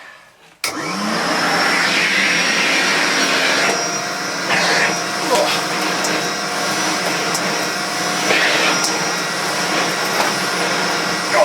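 A Hoover Constellation vacuum cleaner fitted with its floor tool starts up and runs steadily and loudly, a continuous motor whine with a high tone holding throughout, with faint bumps of the tool moving across the floor.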